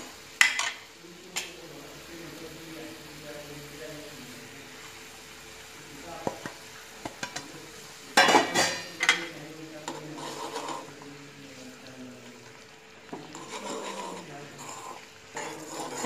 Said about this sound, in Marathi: यामध्ये आपण भाजलेला रवा टाकून घ्यायचा आहे